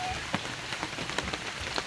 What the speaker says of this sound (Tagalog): As in, sobrang lakas ng ulan.